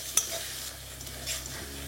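Chopped onions and green chilli fry on medium flame in a pan, giving a soft sizzle with a few scraping stirs and a sharp utensil clink near the start, quiet and close.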